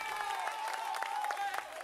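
Brief crowd applause for the keyboardist at an acoustic concert, dense clapping at moderate volume with a sustained keyboard tone lingering beneath it.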